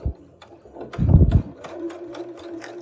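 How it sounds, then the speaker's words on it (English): A sewing machine stitches a small seam on a holiday mug rug, a steady mechanical whir with one louder burst of running in the middle, heard close and without talk. "I would encourage you maybe to sew it in this direction."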